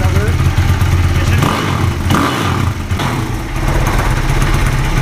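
A motorcycle fitted with a LeoVince exhaust idles loudly and close, a steady throbbing rumble with slight dips in revs, while someone talks over it.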